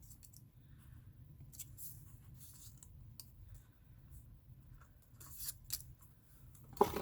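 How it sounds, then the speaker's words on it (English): Scissors snip through paper while a Christmas candy gift box is being made, a few light, close cuts over quiet room noise. "So I'm going to cut this like that."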